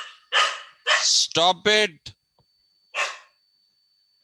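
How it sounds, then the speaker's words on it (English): Dogs at home go berserk during an online class, letting out several loud, close barks in short bursts while a person shouts at them. "these dogs go berserk"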